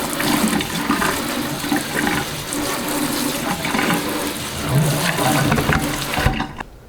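Running water from a tap pours steadily over a potted Hoya plant during an indoor rinse, a loud continuous splashing gush that cuts off abruptly near the end.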